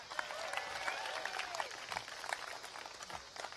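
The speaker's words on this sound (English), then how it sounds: "Give me a round of applause," A crowd at a Democratic rally at the Illinois State Fair applauds. The clapping is fairly faint and distant, mixed with scattered cheers and a brief whistle, and goes on steadily throughout.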